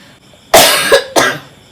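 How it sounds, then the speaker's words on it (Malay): Two loud, harsh coughs close by, the first long and rasping, the second shorter after a brief pause. "Dah batuk dah."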